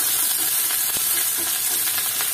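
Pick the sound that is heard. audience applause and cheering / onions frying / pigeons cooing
onions frying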